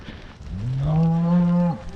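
A single cow moos close and loud during a cattle drive on a farm where a vet is taking blood and vaccinating, one long rising bellow about a second long.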